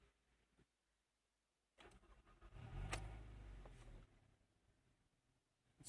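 A Mazda 6 petrol sedan engine cranks and catches after a near-silent start, rising to a brief rev and then settling into a quiet, low idle heard from inside the car.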